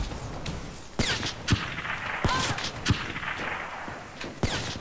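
Gunshots in a first-person video game shooter during a one-on-one match, a string of sharp, spaced cracks with a few louder bursts against a faint background, and no talking.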